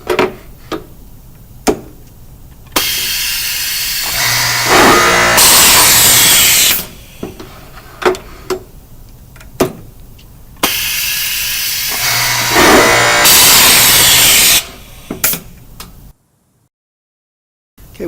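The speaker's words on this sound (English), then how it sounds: "we will then drill our drawer face." Two long, loud drill runs boring into a wooden drawer face for a Grass Zargen drawer system, the motor climbing to a harsh whine each time, with clicks and tapping between, ending in sudden silence.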